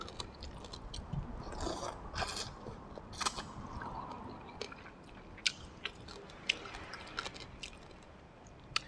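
Close, wet crunching and chewing of spicy Thai papaya salad with fermented fish sauce, chicken skin cracklings and pork rinds, with soft smacking and a few sharp crisp bites toward the end, no talking.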